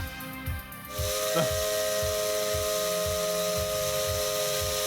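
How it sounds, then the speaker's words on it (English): A steady, high steam locomotive whistle begins about a second in and holds over a rhythmic chugging beat and hiss, a game sound effect. "The steam whistle blows"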